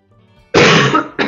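A single loud, close cough bursts out after a moment of quiet, followed by a shorter second cough.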